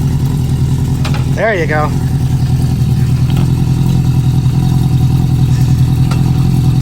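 Idling 1973 Honda CB350 Four motorcycle engine, a loud steady close rumble with a brief rising and falling throttle blip; a person speaks briefly over it.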